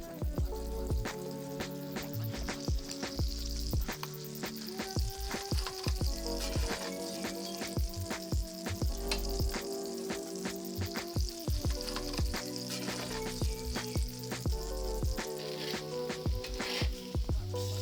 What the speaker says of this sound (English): But we all know fish tastes amazing in butter, so away we go